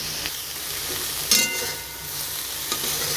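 Soybeans with green chilli and mustard paste are stirred in a hot pan, a steady sizzle of frying with a couple of sharper scraping strokes of the spoon against the pan.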